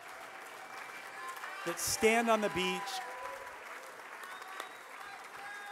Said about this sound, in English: let's have a round of applause for all the photographers and cinematographers and videographers here